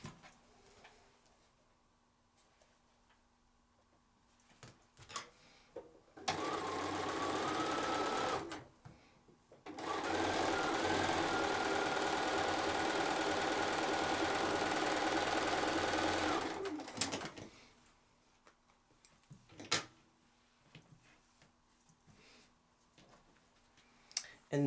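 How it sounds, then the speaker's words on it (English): A sewing machine stitches quilt pieces in two steady runs, one short and one longer, with quiet clicks and handling noises before, between and after. "And then I'm going to sew this to this"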